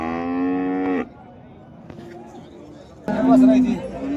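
Heifers at a weekly cattle market in Modnimb low loudly with strong harmonic moos, one long call at the start and another after a pause, over a murmur of crowd noise.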